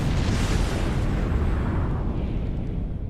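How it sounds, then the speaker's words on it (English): At a Call of Duty League esports event in Anaheim, a continuous loud rumble of explosion effects fills the arena, dense and booming throughout with no voices heard. "does that seem like a lot of explosions?"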